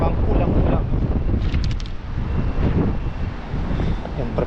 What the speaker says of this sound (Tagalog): Masyadong malakas po yung hangin.